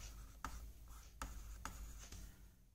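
Pen or pencil writing by hand on paper during a Hindi-medium class 10 maths lesson, with several short scratchy strokes at a steady rhythm over a quiet room hum, close and fairly faint, with no talking.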